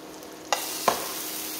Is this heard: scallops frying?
yes